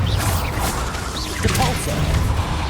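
A Bombarda blasting spell goes off in Hogwarts Legacy, a swishing cast and crunchy impact heard amid dense, continuous combat noise with low rumbling throughout.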